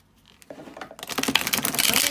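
A stiff, thick-cardstock tarot deck is shuffled close by. Soft scattered clicks build into a dense, fast papery riffle that grows louder toward the end.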